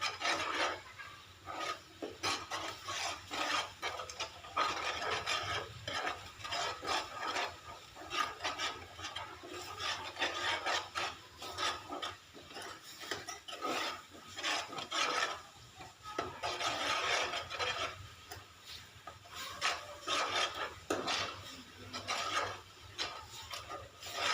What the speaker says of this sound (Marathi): छान हलवत राहायचं शिजेपर्यंत